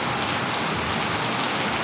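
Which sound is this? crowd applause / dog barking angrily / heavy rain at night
heavy rain at night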